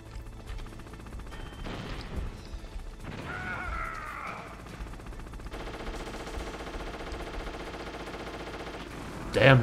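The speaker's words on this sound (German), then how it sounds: "Knallen wir ihn ab." Gunfire in the video game Metal Gear Solid, with bursts of automatic fire, crashes and mechanical clatter during a fight against a Hind helicopter, all loud and continuous.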